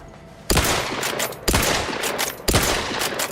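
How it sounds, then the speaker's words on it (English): Slow-firing gun in Outer Worlds 2, three loud evenly spaced shots about a second apart, each a sharp blast trailing into a rumbling tail. "Let's try a shot. This is not a fast-firing gun."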